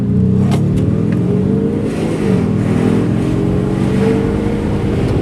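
An Audi S3 diesel engine hums and rises in pitch as it revs up while driving, loud and close, with a steady rushing drone.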